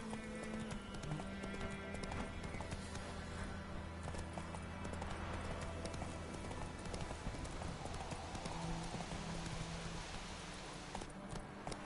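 Hooves of the horse Roach clip-clopping at a steady gallop in a rainy video game scene, dense and continuous under ambient game sound, with an occasional whinny.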